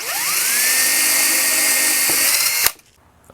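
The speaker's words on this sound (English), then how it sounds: "take my drill at this point and take a 2mm drill bit and drill us some locator pins" A power drill with a 2mm bit whines up to speed and runs steadily with a high-pitched buzz drilling wood, then cuts off abruptly, followed by a brief clatter.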